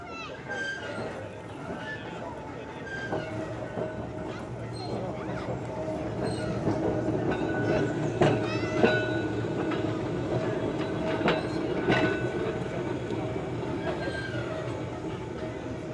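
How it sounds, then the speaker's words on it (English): An old Blackpool tram runs on rails at a tramway museum in Derbyshire, giving a steady low rumble with rail and wheel noise throughout, while people talk over it. "This is an old Blackpool tram"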